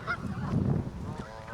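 Waterfowl being fed outdoors honk loudly and repeatedly at close range, with overlapping goose-like calls in quick succession.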